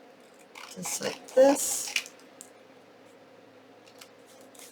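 Scissors snip paper for a junk journal envelope, a few quick close cuts in a short burst, with a person talking softly around them.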